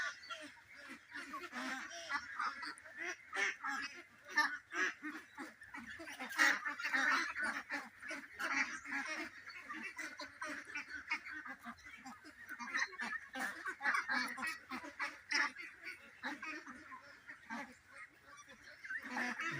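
Local three-month-old ducks on a duck farm quack and honk continuously as a dense, nasal flock chorus at moderate distance, layered and unbroken throughout.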